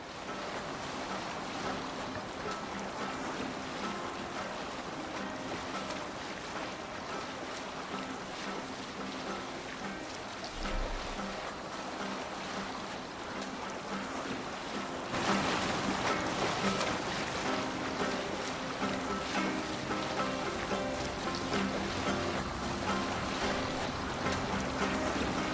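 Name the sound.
ship sailing on waves in Assassin's Creed Valhalla video game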